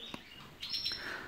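Small birds in an aviary chirp and tweet faintly, with a couple of brief high calls over quiet room noise and no talk.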